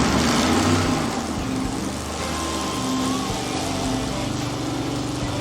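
An engine held at 3,000 RPM on a dyno in a carb versus TBI blow-through test, a steady loud drone with low rumble lasting throughout, no voices over it.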